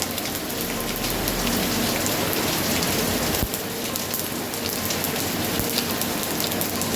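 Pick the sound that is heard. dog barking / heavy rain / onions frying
heavy rain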